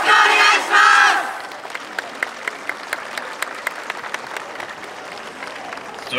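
A crowd at the 2019 Wakasa Obama YOSAKOI festival gives a short burst of cheering and applause. It then settles into steady, rhythmic hand-clapping to a beat, with a soft crowd murmur behind it.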